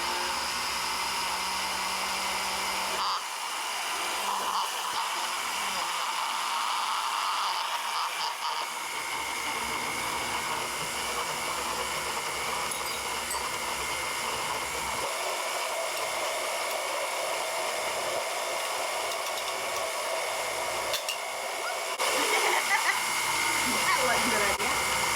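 A blender runs steadily, churning a sticky chocolate, banana and peanut butter smoothie with a loud, continuous whirring roar that holds for the full stretch and swells slightly near the end.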